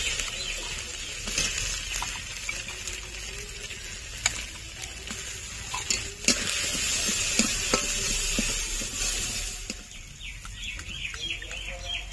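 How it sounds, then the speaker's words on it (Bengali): Ginger and green chilli sizzle in a pan as pea paste is added and stirred, with steady frying hiss, scraping stirs and occasional clinks, and birds chirping in the background. "আদা কাঁচা লঙ্কা ভালো করে ভেজে নিয়েছি, এখন দিয়ে দেব কড়াইশুঁটির পেস্ট"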